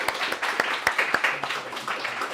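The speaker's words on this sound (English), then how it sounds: "Round of applause." A room of people at a coding bootcamp graduation showcase claps after a presentation, a modest, fairly close patter of hands with a few sharp individual claps standing out, lasting a couple of seconds.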